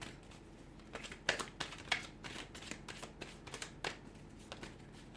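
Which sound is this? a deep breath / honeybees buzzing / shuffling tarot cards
shuffling tarot cards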